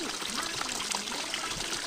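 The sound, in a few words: water flowing from a pipe fed by a motor pump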